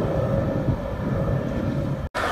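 A Jubilee Line train in a Roblox London Underground game arrives at the platform with a continuous loud rumbling roar and a brief dropout near the end, and no voices.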